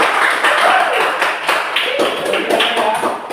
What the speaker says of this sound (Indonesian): itu berikan tepuk tangan dulu